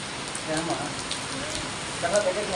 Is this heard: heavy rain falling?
yes